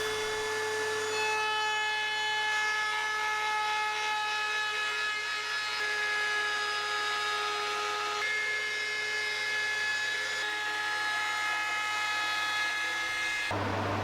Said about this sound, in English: The sharp corners were taken off using a trim router to round the edges just to soften it all off